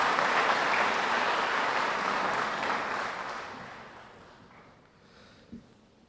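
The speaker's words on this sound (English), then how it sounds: "Give them a round of applause." Audience applause at a police pinning ceremony, a dense crowd of hands clapping that starts full and gradually fades away over several seconds, ending nearly quiet with a single soft knock.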